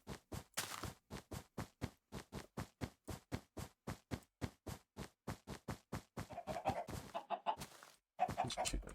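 A Minecraft chicken clucks in a fast, even series of short repeated calls, fairly quiet and close, with a denser flurry of squawks toward the end.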